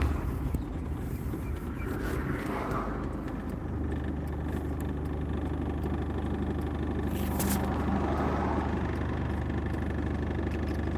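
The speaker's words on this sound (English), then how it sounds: "it is a bit loud because it's a diesel ute" An old diesel ute drones along from inside the cab, a steady low rumble with some wind buffeting and a brief rattle midway.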